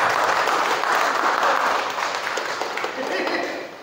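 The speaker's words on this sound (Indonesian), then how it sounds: "tepuk tangan untuk kita semuanya hari ini" Audience applause at a live healing and motivation day event held with an inclusive and vocational center in Bogor, a dense sustained clapping that fades gradually toward the end, with faint talk mixed in.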